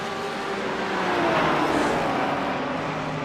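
GT3 race cars zip past slower traffic on the Nürburgring circuit, one steady loud engine roar building and fading as the cars pass close by.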